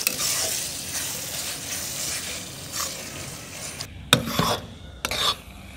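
Coarsely minced mutton keema frying in masala in a kadhai, a dense hiss of oil under repeated scraping strokes of a spatula, with a few sharper metallic scrapes and knocks near the end.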